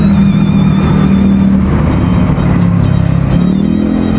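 A Honda Click 125 scooter engine idles steadily and loudly up close, a constant vibrating drone with a low hum that shifts slightly in pitch near the end.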